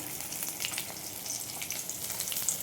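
Nigella seeds sizzling and frying in hot oil alongside fried chital fish, a steady close crackling hiss with small pops.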